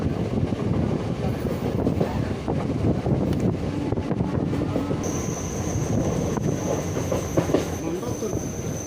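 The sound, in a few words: train passing along rail track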